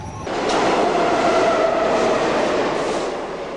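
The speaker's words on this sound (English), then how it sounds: "On a speeding downtown subway train" A speeding downtown subway train roars steadily through a tunnel, loud and continuous rumble with a faint metallic whine riding over it and no speech.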